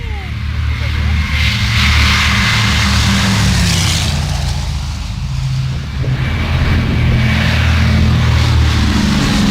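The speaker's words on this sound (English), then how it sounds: "The Douglas DC-3 is a propeller-driven airliner" Douglas DC-3 propeller airliner: a steady, loud engine drone with a low throbbing hum running throughout, under a speaking voice.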